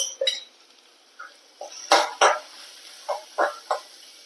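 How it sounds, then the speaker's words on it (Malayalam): A spoon or spatula stirs chicken masala and turmeric powder in a pan for egg Maggi noodles, making a series of close, distinct metallic scrapes and clinks separated by short quiet gaps. "നന്നായി ഇളക്കി കൊടുക്കുക."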